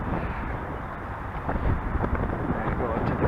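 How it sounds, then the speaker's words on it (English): Strong wind blows outdoors in front of the Field Museum in Chicago, a loud, steady rushing roar with gusty buffeting against the microphone throughout. "I told you it's windy out here, didn't I?"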